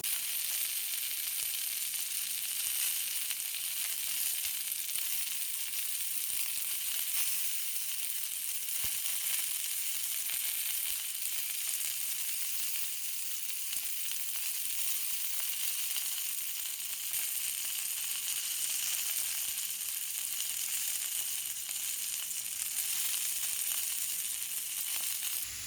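Onion strips for cheese steak fry in a crowded, overfilled pan, giving a steady, even sizzle that holds for the whole stretch at moderate level with no voices.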